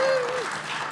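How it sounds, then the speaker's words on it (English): A live audience at a Melbourne event claps in a brief, dense burst. "So guys, clap."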